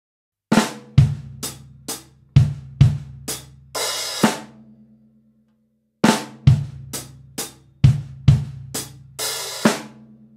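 A drum kit plays a bar of a drum lick that opens on a flam, with sharp snare and kick hits in a quick syncopated run, a short pause, then the pattern repeats loud and close with no talking.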